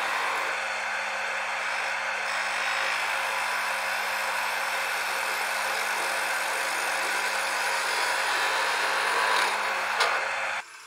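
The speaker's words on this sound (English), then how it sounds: "while I'm sanding this" Abrasive sanding against a hollow wooden ornament spinning on a woodturning lathe, a steady broadband hiss over the motor's low hum, continuous and close, stopping abruptly at the end.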